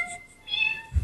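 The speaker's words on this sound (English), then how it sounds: "You have a variety of different cat sounds, everything from angelic kitty to asthmatic kitty." A synthesized cat meow from the Cat Piano synthesizer app, a short, tonal, musical meow with a faint low thump at the end.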